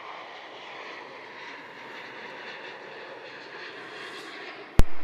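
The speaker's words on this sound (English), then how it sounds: "Cathay rotating. There we go. Lovely A350 departing." A Cathay Pacific Airbus A350 departs Melbourne Airport with a steady, distant jet engine roar that stays even throughout, ending in a sudden sharp bump.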